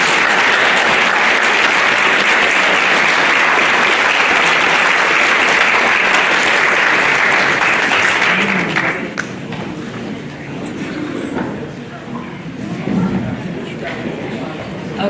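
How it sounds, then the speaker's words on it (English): Audience applause after a talk on migraine and headache treatment: dense, loud clapping from a crowd for about eight seconds, then fading into quieter room noise with scattered claps and murmuring voices. "Clap it up."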